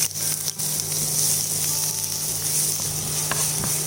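Onion frying in a pan for Goan fish curry, a steady close sizzle with crackling bursts and faint scraping, continuous throughout with no talk.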